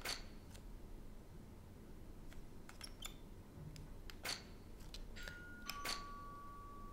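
Ringing chime in the video game GreedFall, a few bright, brief tonal pings scattered over a steady low background, one tone sustaining near the end, with no talk.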